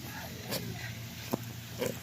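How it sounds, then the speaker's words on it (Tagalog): A sow grunts in three short, faint oinks spaced across the moment, heard against a quiet farmyard background. "Ito yung inahin ng mga biik na nakita nyo kanina guys."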